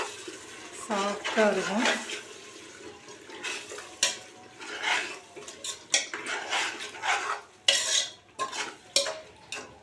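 A spoon scrapes and stirs chicken and yogurt for biryani in a metal pot, irregular wet scraping strokes, with a voice speaking briefly early on.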